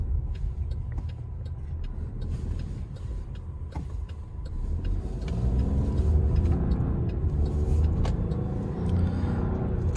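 A 2020 Buick Encore GX Essence drives along, a steady road rumble and muted engine hum heard from inside the cabin that swells as the car accelerates about halfway through, with no talking.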